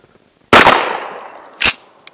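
A Mossberg Maverick 88 pump shotgun fires one sharp, loud blast outdoors at a bottle target, followed by a long fading echo and then a second, shorter bang and a faint click.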